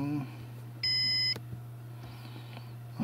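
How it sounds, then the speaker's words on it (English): A Synology DS1517+ NAS system beeper sounds one steady electronic tone of about half a second, warning of a degraded volume, over a constant low hum with a few faint clicks. "So we have a system beeper which tells us that the volume is degraded."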